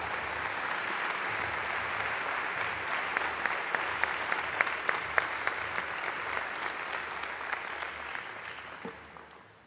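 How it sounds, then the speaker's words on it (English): Sustained crowd applause at the 2014 Hall of Fame induction ceremony, a dense steady wash of many hands clapping with a few sharper claps standing out, fading slightly toward the end. "One more round of applause for the outstanding individuals."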